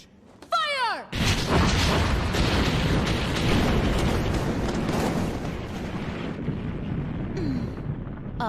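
Artillery fire and explosions erupt in a Mobile Suit Gundam: Iron-Blooded Orphans anime space battle, a sudden heavy blast followed by a dense, continuous rumble of booms and bursts that stays loud throughout.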